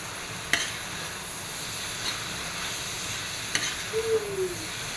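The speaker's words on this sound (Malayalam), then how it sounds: "എല്ലാം കൂടി ഇട്ടിട്ട് നന്നായിട്ടൊന്ന് മിക്സ് ചെയ്തിട്ട് സിമ്മിലിട്ട് കൊടുക്കണേ" Bitter gourd and onion frying in oil in a pan, a steady close sizzle and hiss with a few light scrapes as the mixture is stirred.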